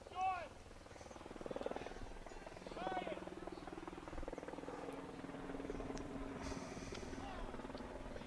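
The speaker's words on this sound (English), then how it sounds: "The helicopter is back." Helicopter drone rumbling steadily over a high school varsity baseball field, moderately distant and continuous beneath crowd chatter and announcer talk.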